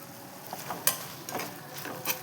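Curry leaves, turmeric and chili powder frying in oil in a pan, with soft crackling sizzle and a few sharper spits and pops under a faint stirring scrape, close and fairly quiet.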